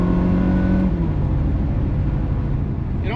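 A Ferrari 360 engine drones with a steady, loud revving tone that dips and holds while driving, close inside the car, no voices.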